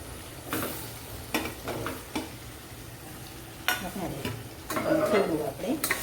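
Eggplant and potatoes with cooked tomatoes are stirred in a sizzling pan for Kathiyawadi shaak, with sharp intermittent scrapes of a spoon against the pan over a soft frying hiss.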